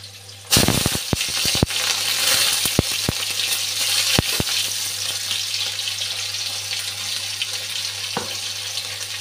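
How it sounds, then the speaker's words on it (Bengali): Black cumin and green chillies dropped into hot oil in a pan, a sudden burst of loud crackling and sharp spits that settles into a steady sizzle with scattered pops, no voices. "এখন কালো জিরে আর কাঁচা লঙ্কাগুলো দিয়ে দিচ্ছি।"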